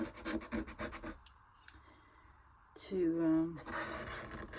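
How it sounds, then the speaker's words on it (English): Palette knife scraping material off a surface during a mixed media art project, a series of close rasping strokes at first, then a quieter pause and a longer scrape, with someone talking over it. "She has such a cool knife that she uses to scrape off things like this."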